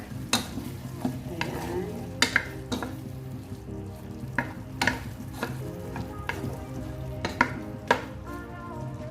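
Mung bean sprouts and pork cook in a pan with a low, steady sizzle and bubbling, broken by sharp clacks of a utensil knocking and scraping against the pan at irregular intervals; a single word is spoken briefly.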